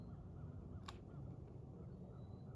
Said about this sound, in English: here comes a whole slew of other birds